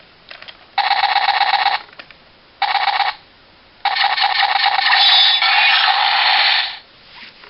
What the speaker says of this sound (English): for the sword mode, is a combination of a gun noise and a slash.